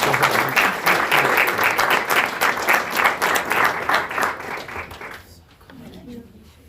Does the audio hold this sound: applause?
yes